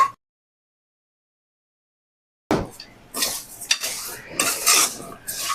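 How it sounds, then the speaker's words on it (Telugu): Vermicelli roasting in oil in a pan for semiya payasam: silence for over two seconds, then busy clattering and scraping of a spoon against the pan over a light sizzle, with no talk. "ఇదే ఆయిల్లో సేమియాలు కూడా వేయించుకుందాం."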